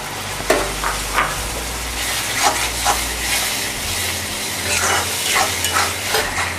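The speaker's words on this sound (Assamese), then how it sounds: "টমেটো পিউৰিখিনি দিয়াৰ পিছত এইখিনি সুন্দৰকৈ মিলাই অলপ সময় ভাজি ল'ম।" Masala fries with tomato puree in a pan for an Assamese bottle gourd curry, a soft sizzle under periodic scraping strokes of a spoon stirring the mixture, with a low hum in the background.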